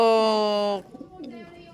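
Racing pigeons coo with one sustained, tonal coo up close, followed by softer, scattered murmuring sounds with a voice faintly mixed in.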